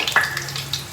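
Garlic fries in a pan at home, giving a close, steady sizzle with a brief scrape of stirring near the start and no talk.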